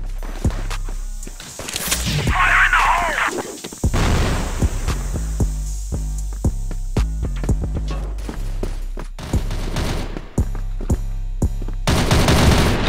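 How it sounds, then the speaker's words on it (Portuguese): Rapid bursts of automatic gunfire crack through a first-person shooter match, with a steady stream of single shots and short volleys across the whole stretch; a player's voice briefly cuts in near the start. "Que tiro foi esse, hein?"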